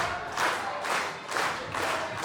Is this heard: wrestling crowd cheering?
yes